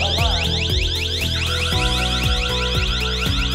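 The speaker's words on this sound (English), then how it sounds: "Let's open the door sensor. The siren will alarm at once." An indoor security alarm siren, set off by an opened door sensor, blaring continuously, with rapid repeating warbling and sweeping tones, close and piercing, with no voices.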